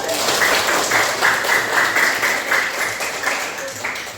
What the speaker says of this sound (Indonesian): Oke, tepuk tangan untuk kita.